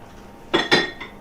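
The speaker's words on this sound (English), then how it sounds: "Give this a quick whisk." A fork or whisk beats a mixture seasoned with white pepper in a bowl for fish tacos, two quick loud metallic clinking strokes followed by a fainter third, close up.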